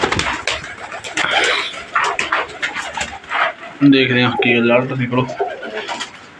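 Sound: pigeons cooing

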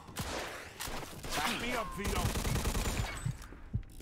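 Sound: gunfire in the video game Mafia 2

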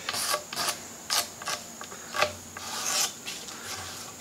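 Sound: scrubbing off finish from oak table with brass brush

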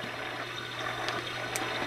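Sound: baby swing playing water white noise sound

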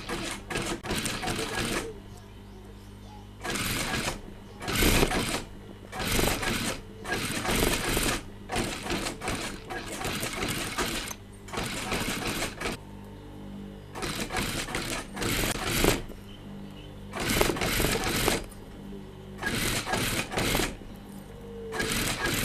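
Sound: sewing machine stitching shirt shoulder and side seams

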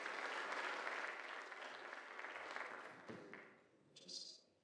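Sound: audience applause at class night

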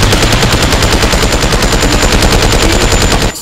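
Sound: gunfire in Kaiju Universe video game

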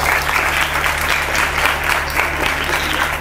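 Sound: children applauding loudly

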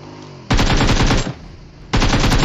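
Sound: gunshots in video game PUBG Mobile

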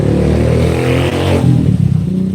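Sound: noisy passing traffic vehicles

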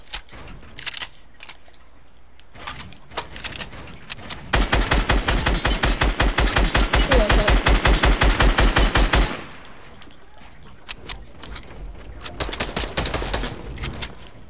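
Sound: gunfire in a shooter video game

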